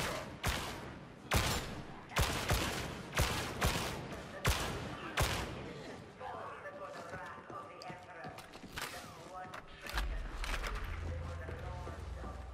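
Rapid gunshots in the Warhammer 40K Darktide video game, a burst of sharp, loud cracks in quick rhythm over the first six seconds, then quieter game noise and a low rumble while players talk.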